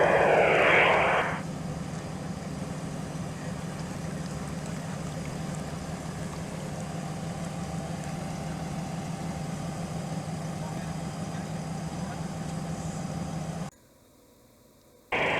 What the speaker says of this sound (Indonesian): Sekarang Wrangler yang satu lagi yang Matic akan coba lewat.